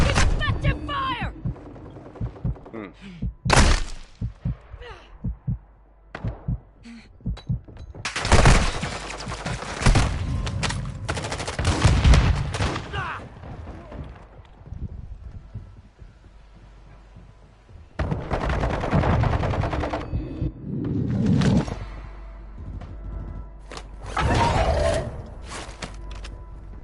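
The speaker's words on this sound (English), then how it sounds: "Found a mortar strike. Effective fire!" Mortar strike and gunfire in Modern Warfare 2: repeated loud booming impacts and bursts of shooting in clusters, with quieter stretches between and occasional voices.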